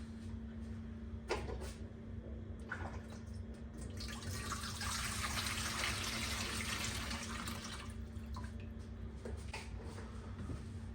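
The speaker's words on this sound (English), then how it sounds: "the next thing you do is just fill it with water and put it back together" Water poured from a container to fill a pet drinking fountain for a cat, a steady splashing stream that swells in the middle and then eases off, preceded and followed by a few light plastic knocks, with no talking.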